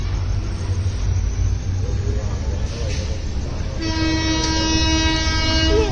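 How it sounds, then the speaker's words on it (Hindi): A passenger train pulls out of a railway station: steady low rumble of the moving cars throughout, then a loud sustained horn with strong harmonics sounding from about four seconds to the end, close by. "और ये ट्रेन अब जाने वाली है। So the train is about to move,"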